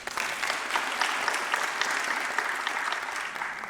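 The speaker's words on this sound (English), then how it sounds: "another round of applause to Alma, Into Albania team and Francon team" Audience applauding at a business product presentation. Bright, steady crowd clapping runs continuously for a few seconds, with no talk over it.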